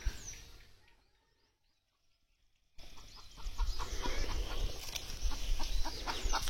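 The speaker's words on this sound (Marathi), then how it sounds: "कोंबडी ओरडतायत सकाळ सकाळ" Farm fowl in a rural Konkan village yard in the early morning: soft clucks at first, a quiet lull, then a denser stretch of bird calls and clucking over outdoor ambience, moderately near.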